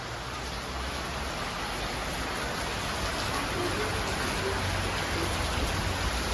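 Steady rain falling, a dense hiss of drops that stays even and continuous throughout with no voices over it.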